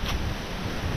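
Strong wind gusts hard against the microphone in a steady, loud rumbling roar, with no talking.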